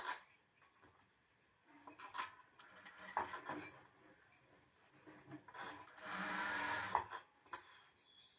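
Domestic sewing machine stitching the lining edge of a blouse back piece, running in short rattling bursts with one longer steady run near the end, close and moderately loud.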